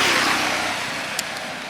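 An MV Agusta F3 motorcycle engine runs with a steady broadband roar, heard up close for a brief moment with no clear revving and one small click near the end.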